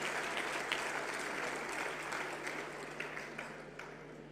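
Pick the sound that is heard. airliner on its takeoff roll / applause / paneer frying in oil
applause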